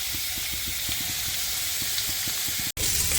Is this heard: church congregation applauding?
no